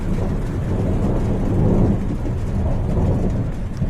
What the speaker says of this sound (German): Ja, das ist eine Gewitterzelle.